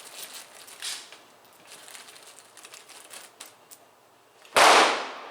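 An air gun fires an MP hollow base pellet at the range, one sharp loud crack near the end after a stretch of faint clicking and handling noise.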